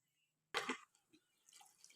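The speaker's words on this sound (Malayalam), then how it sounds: "കുറച്ച് വെള്ളവും കൂടി ഇതിലേക്ക് ഒഴിച്ചു കൊടുക്കാം" Water is tipped into a pressure cooker with a short, close splash, followed by a few faint drips and small sloshes in an otherwise quiet kitchen.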